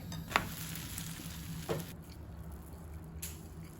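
A Berber crêpe cooks in a hot pan with a soft, steady sizzle, broken by two small scraping knocks as it is turned over. No one speaks.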